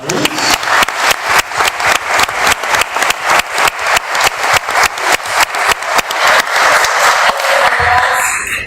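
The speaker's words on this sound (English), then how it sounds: "let's give a nice round of applause to all of our retirees" Sustained applause from an audience at a school board of education meeting honoring retirees, dense rhythmic clapping that stays loud and steady for several seconds before tapering at the end.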